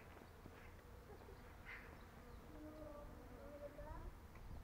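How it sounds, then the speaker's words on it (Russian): Bees buzz around apricot trees in bloom in a Crimean town, a faint, steady insect hum in open outdoor air with distant background noise and occasional voices. "Сейчас у нас уже цветет абрикос. И пчелы гудят."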